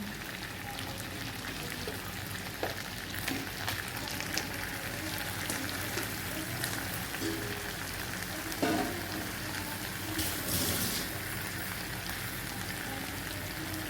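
Fish pieces go into a hot pan of gati kochu (taro) fish curry, with a steady, close frying hiss and scattered crackles and pops throughout.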